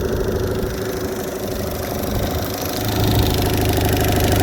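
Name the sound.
Evinrude E-TEC 15hp outboard engine idling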